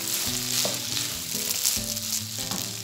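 Onion and chicken frying in a pan, a loud continuous sizzle with low thumps and scrapes of stirring, up close and without talk.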